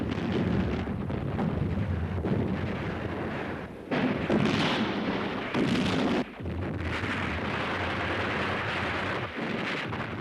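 Artillery fire in Korean War footage: a continuous, loud, rumbling roar of distant guns and explosions with several heavier bursts and wind-like noise throughout, and no voices.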